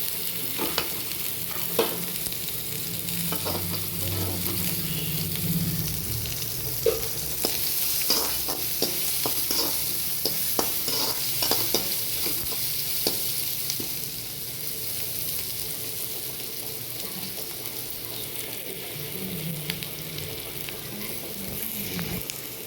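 Onions for keerai poriyal sauté in a pan with a steady, even sizzle close by, dotted with light scraping stirs and small clicks, no voices.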